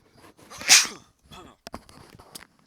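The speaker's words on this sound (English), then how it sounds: "Excuse me, I sneezed there." A single sharp human sneeze bursts out near the mic, followed by a few quieter rustles and breaths.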